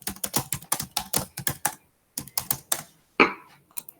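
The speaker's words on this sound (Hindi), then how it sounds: "देखो टाइपिंग कर रहे हैं कितनी तेज।" Quick bursts of typing on a computer keyboard, sharp close clicks in rapid runs with a brief pause partway and a heavier key strike near the end.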